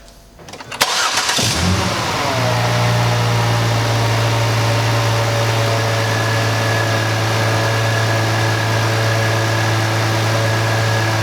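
A car engine cranks and catches after an ignition coil repair, then settles into a smooth, loud, steady idle with an even hum that holds unbroken for the rest of the time.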